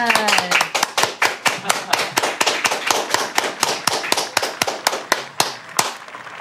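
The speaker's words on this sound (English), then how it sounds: "Everybody together. Clap hand." A group claps hands together at a new center's opening celebration, sharp rapid claps in a steady rhythm with a few early voices mixed in, loud and close.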